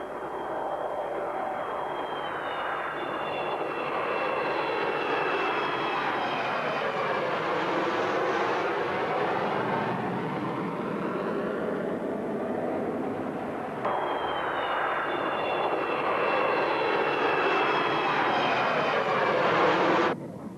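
A General Dynamics F-111 Aardvark swing-wing jet roars steadily overhead, a loud continuous engine drone with whining tones that sweep and shift, restarting partway through, with no voices.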